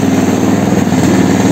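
A mini tractor's engine runs steadily while driving with a trailer hauling screenings, a close, continuous mid-pitched chugging drone that holds at a constant level throughout.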